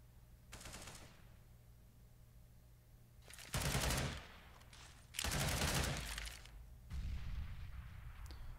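Sustained bursts of automatic gunfire in the Counter-Strike match on Mirage come in three heavy volleys between quieter stretches of lighter shooting, all of it loud and close with no talking over it.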